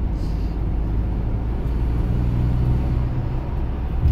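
Ford Transit 350 cargo van engine pulling in third gear on a hill after a downshift, a steady low droning rumble with road noise that rises slightly toward the end.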